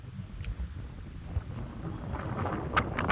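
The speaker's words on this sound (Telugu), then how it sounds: "గాలి వస్తుంది బాగా, నా వాయిస్ క్లారిటీగా ఉందో లేదో నాకైతే తెలియదు" Strong gusts buffet the microphone on an outing to a waterfall, a steady low rumbling roar with louder bursts toward the end and no voices.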